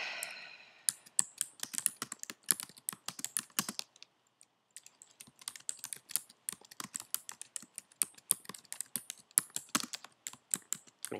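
Rapid clicking of computer keyboard keys, typed in irregular bursts with one brief pause near the start, close and fairly quiet, with no talking.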